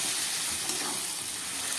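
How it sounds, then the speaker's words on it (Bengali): Mushrooms sizzle in a pan just after a little water is added. The hiss is broad and steady, close and evenly loud from start to finish. "এবার আমি একটু সামান্য জল দেব, খুব কম জল দিলাম, দিয়ে এবার একটু ঢাকা দিয়ে আমি এটাকে কষাবো"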